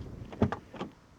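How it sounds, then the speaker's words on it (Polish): A Fiat 500 0.9 TwinAir small city car door clunks shut nearby, with a couple of quick thuds and rattles close together, then one softer latch click. "No słyszeliście, jak się zamykają, otwierają drzwi."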